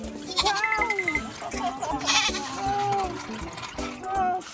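Goats on a large farm in Ratchaburi, Thailand, bleat several times in short wavering calls, close and clear, while people talk and children's voices carry on underneath.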